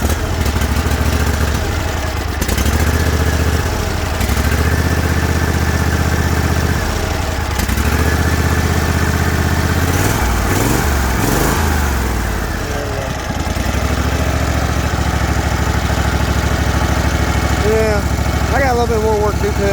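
A small lawn mower engine runs continuously with some revving and uneven surges, loud and close, while people talk over it.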